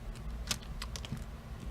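Craft embellishments being cut off for a handmade Christmas card make a few short, crisp snipping clicks, close-up and quiet, spaced irregularly over a soft background hush.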